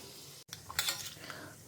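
Ivy gourd pieces drop into a hot tempering of mustard seeds, urad dal and chana dal, setting off a sudden close sizzle and crackle that keeps frying steadily after a brief quiet moment.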